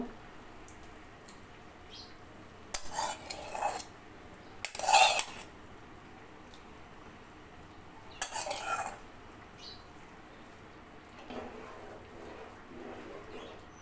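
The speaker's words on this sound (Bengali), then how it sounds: "সেটা এখন দিয়ে নেড়ে চেড়ে মাছের ঝোলটা কমপ্লিট করে নিব" Utensil scraping and clinking in a pan as fish curry is stirred after fried onion-cumin paste goes in, a few short bursts of metal-on-pan stirring separated by quiet pauses.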